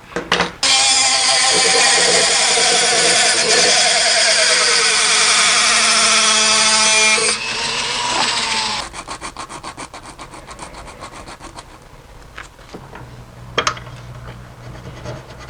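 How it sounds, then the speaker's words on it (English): Loud, continuous abrasive grinding for several seconds, then it cuts out and quieter scraping and rubbing follow with a sharp knock near the end. "So I got most of the rough sanding and grinding done"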